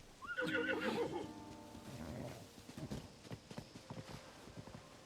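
A horse in the open-world game Zelda: Tears of the Kingdom gives a loud whinny up close, then its hooves clop in an uneven run of steps that fades a little afterward.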